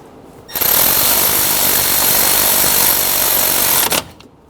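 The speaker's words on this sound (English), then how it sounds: "Snug the bolts down." A power tool snugging down the tensioner bolts on a Honda Pilot, a loud, close, rapid rattling buzz that starts abruptly, holds steady for about three seconds, then stops.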